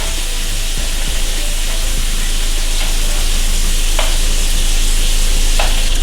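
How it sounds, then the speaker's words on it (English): Salmon fillets for a Tuscan salmon dish fry in a skillet with a steady, close sizzle and hiss that runs unbroken for the whole stretch. Faint spatters and stirring noises rise above it now and then. "our salmon is cooking up nicely, so once that's done, we can go ahead and remove it from the skillet"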